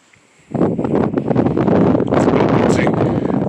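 Strong wind gusting across a hilltop at a historic fort site, starting abruptly after a quiet moment and then roaring and buffeting the microphone loudly and continuously.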